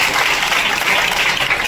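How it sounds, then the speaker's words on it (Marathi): A crowd of students at a school election claps in dense, even applause for the winning student, loud and close throughout. "त्याचं टाळ्या वाजवून स्वागत करायचं आहे."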